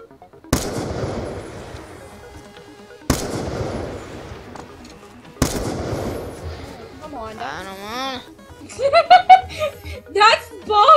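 Gunfire in a Call of Duty match on the Nuketown map: three loud, separate shots spaced a few seconds apart, each trailing off, followed by excited talk and laughter from players.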